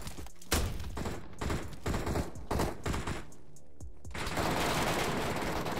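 Automatic and single-shot gunfire in the mobile battle royale game PUBG Metro Royale, loud, repeated bursts and sharp cracks with a sustained rattling volley near the end, without talk.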